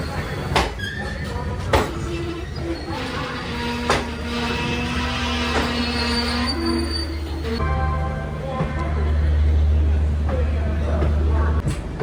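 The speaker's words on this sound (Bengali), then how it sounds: "আমাদের ট্রেন এসে এখন পৌঁছালো কানপুর সেন্ট্রাল রেলওয়ে স্টেশনে" The 12311 Netaji Express rolls into Kanpur Central station, a low rumble with squeals and clanks as it slows, while voices and announcements carry across the platform.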